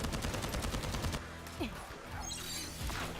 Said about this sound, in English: Shooting explosive frost shards is one of Viessa's favorite tricks to pull.